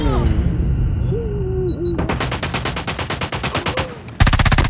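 Rapid automatic gunfire from a Call of Duty Mobile match, steady bursts of loud, evenly spaced shots running for a couple of seconds, with a sharper, denser volley breaking out at the very end.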